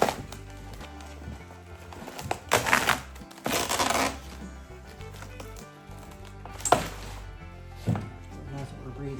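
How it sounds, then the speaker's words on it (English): Old vinyl upholstery crunches and crackles as it is torn away, in scattered close bursts of tearing and snapping between quieter pauses, with a voice faintly present. "Crispy, crunchy vinyl."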